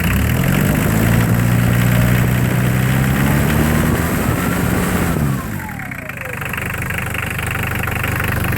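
A 1985 Dodge Ram 50 diesel engine, leaking at the injection pump, roars at high revs for several seconds, then the throttle drops and it winds down toward a lower, rumbling idle.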